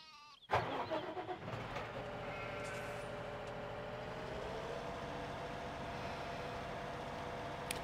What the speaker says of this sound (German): Aber ich habe ja jetzt hier noch den Traktor.